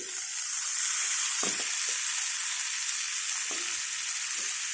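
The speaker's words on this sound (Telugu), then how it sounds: "ఆలుగడ్డ వేస్తున్నాను" Potato pieces fry in hot oil with ginger and green chillies, a steady bright sizzle continuing throughout with a few soft stirring knocks, close and unaccompanied by talk.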